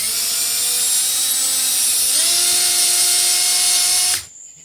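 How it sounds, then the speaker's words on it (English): Power drill with a 7/32-inch bit truing up bolt holes in an engine flywheel, a steady high whine that rises in pitch partway through and then cuts off abruptly near the end. "We've got our 7/30 seconds drill bit in the drill."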